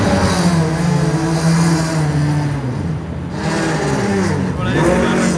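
WEC race car pulling away during the 6 Hours of Portimão, a loud, close engine rising in pitch as it accelerates, with a second rev-up near the end; people talk over it.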